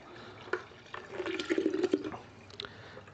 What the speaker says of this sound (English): So, okay, dump that in here, the ice cubes and all.